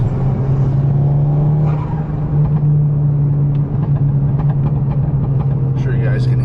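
Cabin sound of a car with a K04 turbo, a loud steady engine drone inside the car with faint fluttering and chirpy bursts above it, while people talk.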